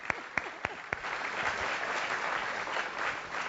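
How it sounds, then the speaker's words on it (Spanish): A few sharp claps lead into a burst of steady applause from a small crowd, sustained and fairly close. "Quiero un fuerte aplauso para Julio."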